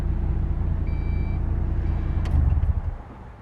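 A Miata's airbag module gives off a thin, faint warning beep, a short tone heard once or twice against a low engine-like rumble, ending in a soft thud.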